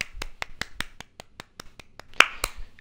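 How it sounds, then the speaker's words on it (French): A single person claps hands in a quick steady rhythm, about a dozen sharp, close claps of moderate loudness spaced evenly, with one louder clap near the end. "Effectivement, putain, mais on applaudit Cerberos"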